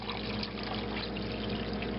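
Hot tap water from a kitchen sink poured into a pot of pinto beans, a steady close splashing rush that runs unbroken throughout.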